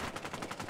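Rapid automatic gunfire in Battlefield Hardline, a quick burst of about six evenly spaced shots, loud and close, with no voices.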